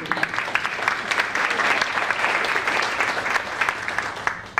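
An audience at a school board meet-and-greet evening applauds the board's education vice president, a dense, steady burst of clapping from many hands that holds for several seconds, with no talking over it.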